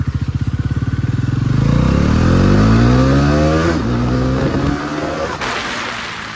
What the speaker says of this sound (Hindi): इसलिए तो विजय भाई का बाइक लिया है थोड़ा खींचने के लिए